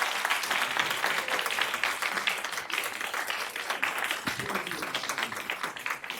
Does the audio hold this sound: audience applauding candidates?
yes